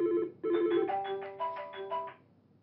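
A mobile phone plays its melodic ringtone for an incoming call: a brief phrase, a short pause, then a fuller run of bright repeating tones that fade at the end, close and clear with no talking.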